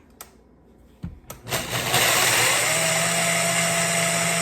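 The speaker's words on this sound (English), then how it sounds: "And I just put them in my Vitamix." A Vitamix blender whirs up loud and close after a couple of clicks, grinding salmon treats into flour in a steady, sustained high-pitched roar.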